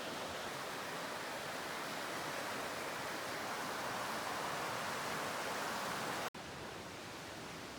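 River water rushing below Benton Creek Bridge, a constant broad roar of flowing water heard from above, steady throughout with a brief cut near the end.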